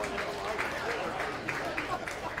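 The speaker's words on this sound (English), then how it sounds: "let's give her a nice round of applause" Audience applause at a county fair swine show in Dodge County, a steady wash of clapping from a crowd with faint voices mixed in.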